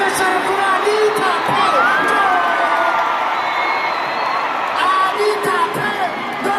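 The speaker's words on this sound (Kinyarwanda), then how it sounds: "amashyi cyane kuri Anita" A crowd at a New Year event in Rwanda cheers and whoops for MC Anita, a loud, sustained mix of shouts and high calls with voices throughout.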